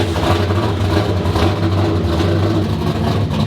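Loud drift car engine at an outdoor drift event, idling with a heavy low rumble and slight revving swells, steady and close for the whole stretch with no talking.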